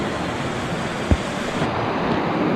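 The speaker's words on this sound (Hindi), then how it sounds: "यह सामने देखिए नीलगंगा बहती हुई" The Nilganga river flowing near Wan village on the Roopkund trek gives a steady broadband rush of water, loud and constant, with wind buffeting the microphone and a single soft thump.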